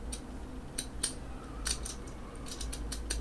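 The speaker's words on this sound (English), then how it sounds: "I love the sound of those pins clicking into their special positions." A key slides into a lock, giving a series of faint, sharp metallic clicks as the pins shift, several separate ticks over a quiet, low background hum with no talking.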